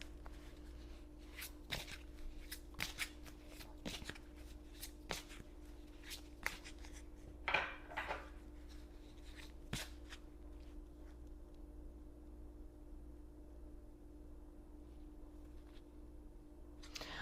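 Oracle cards are handled and shuffled close by in a quiet room, giving soft, irregular flicks and riffles with a few brief louder rustles.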